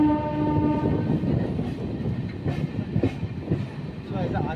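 A passenger train rumbles into Masagram junction with steady clatter and mechanical rattle, a sustained horn-like tone early on, and loud wheel and brake noise throughout.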